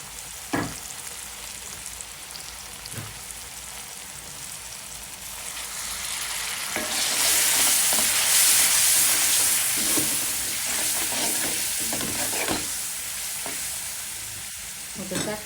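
Ground spices fried with garlic paste in a pan: cumin, chili, turmeric and garam masala powders, for chickpea bhuna. A steady loud sizzle runs throughout, swelling in the middle, with scraping stirs and occasional clacks.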